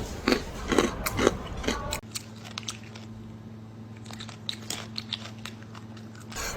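Close, crisp crunching of a sweet, crunchy Chinese snack similar to chickpeas or corn nuts, several sharp bites and chews in quick succession, later over a low steady hum.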